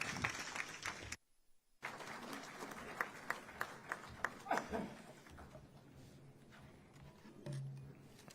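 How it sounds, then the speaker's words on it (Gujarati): Applause at the Vibrant Gujarat Global Summit 2024 seminar on electric vehicle manufacturing and charging: a faint, sustained patter of many hands clapping in a large hall, briefly cut out, then continuing with scattered sharper claps. "મુખ્યમંત્રી શ્રી ભૂપેન્દ્રભાઈ પટેલને તાળીઓના ગડગડાટ સાથે આ પ્રસંગે પ્રેરક ઉદ્બોધન આપવા માટે આમંત્રિત કરીએ છીએ."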